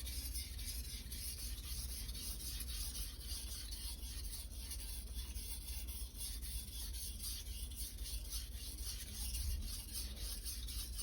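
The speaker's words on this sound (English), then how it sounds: "is my first time sharpening this blade" An SG2 steel nakiri knife is rubbed back and forth across Chosera/Naniwa 800/3000 grit whetstones in a quiet, even, repetitive scraping close to the listener, with no talk.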